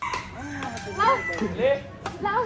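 A rooster crows in drawn-out, rising and falling calls, loud and nearby, with some background voices mixed in.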